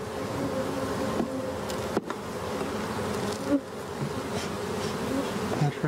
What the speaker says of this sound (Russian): Пчелы начали отстройку последней рамки.